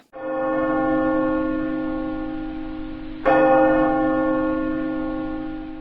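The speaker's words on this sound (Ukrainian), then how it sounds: "Сигнал радіаційної небезпеки це дзвін в набат." A church bell tolls loudly as a radiation danger alarm, two strikes about three seconds apart, each ringing out with a long, slowly fading resonance.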